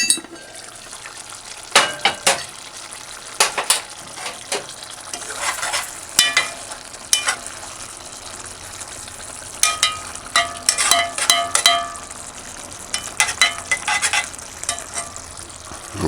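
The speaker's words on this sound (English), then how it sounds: "I'm just gonna allow it to simmer for about a minute or two." Spam luncheon meat in gravy bubbles on a stove set to low, with a quiet simmering hiss under repeated clinks and scrapes of a utensil stirring the pan, close by.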